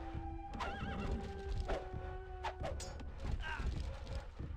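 Light cavalry horses in an Age of Empires-style strategy game whinny and neigh repeatedly amid clip-clopping hooves, busy battle clatter and a steady low rumble, fairly faint and continuous.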